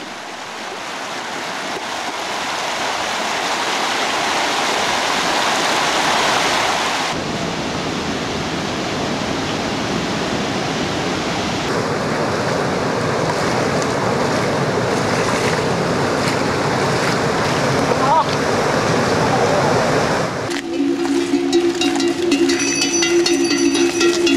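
The Marsyangdi Kola river in the Annapurna region of Nepal rushes in a dense, steady roar of whitewater, loud and continuous, shifting slightly in character across several stretches, with no voices.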